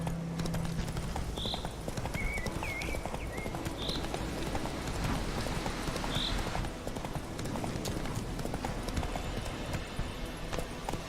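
Hooves of a horse ridden in The Witcher 3 video game beat in a steady, continuous clip-clop rhythm throughout, loud and close over a busy game soundscape with a few brief bird-like chirps.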